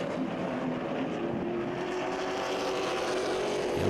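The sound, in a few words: late model stock cars racing on a track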